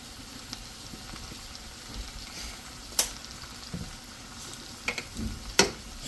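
Spinach cooks in butter in a pan with a steady soft sizzle, while a utensil stirs it and gives a few sharp scrapes and clicks against the pan, with no talking.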